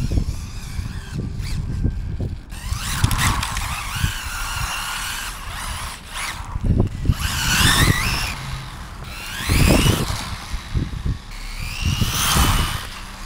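A radio-controlled car slides across a patch of dirt, its electric motor whining in rising and falling bursts over gritty scrabbling and skidding noise, loud and close, with several separate slides spread across the stretch.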